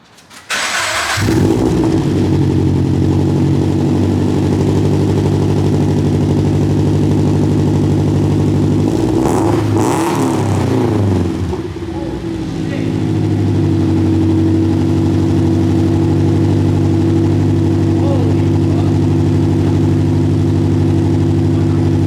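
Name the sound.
car engine starting and idling with headers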